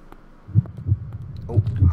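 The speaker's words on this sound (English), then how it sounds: "Oh, heartbeat." A heartbeat in the horror game The Flight: low, muffled thumps in close pairs, pulsing steadily and growing slightly louder over a faint background hum.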